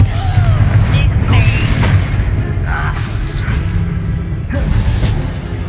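Fiery blasts from the Confringo spell in Hogwarts Legacy boom out amid busy combat noise, with several loud bursts and whooshes over a constant low rumble.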